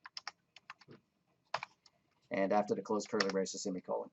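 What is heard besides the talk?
typing on a computer keyboard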